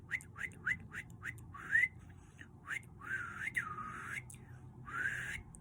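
Someone whistles a series of short, rising notes in a quick, uneven rhythm, close and fairly quiet, with soft background noise.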